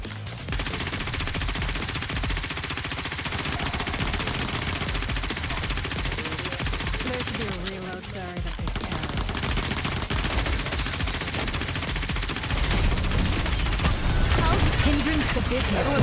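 Many guns firing at once in the video game Nikke, a continuous loud barrage of rapid automatic gunfire sustained throughout, with voices speaking over the din.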